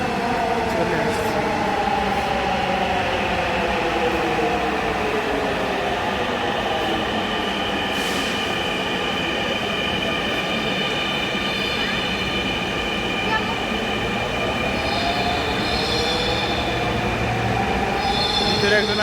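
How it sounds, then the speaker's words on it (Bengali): A Dhaka metro train pulls into a station, its wheels squealing in long high tones over a loud, steady rail rumble that fills the whole stretch, with a little background voice in the station. "ট্রেন একটা অলরেডি আছে, আর একটা আসতেছে, এটা উঠে আমরা যাব।"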